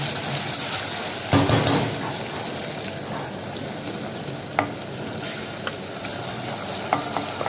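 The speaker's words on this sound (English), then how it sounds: "Meetha flavor will be because of the sugar and ginger, which we are going to saute a little bit" Red chilies, ginger and sugar sautéing in a pan, a steady close sizzle broken by occasional clacks and scrapes of a stirring spoon against the pan.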